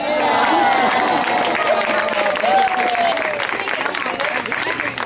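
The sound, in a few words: audience applause for a performing bird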